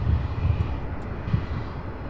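A UPS heavy freighter jet takes off from runway 35 right at SDF, its engines a loud, steady broadband roar with deep low rumble, sustained throughout without talk.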